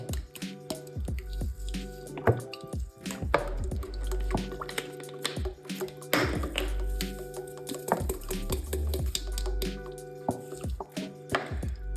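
Dried plant material and olive oil going into an oil infuser, a busy mix of wet drips, squishy plops and clunks at close range, steady throughout with no talk.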